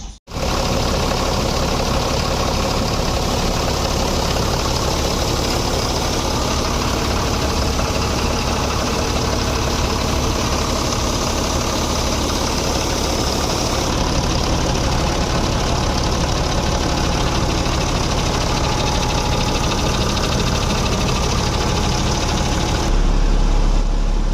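Mahindra six-cylinder engine idling steadily after tappet adjustment, a loud continuous low rumble with a faint rhythmic knock, running close by with no talk for over twenty seconds.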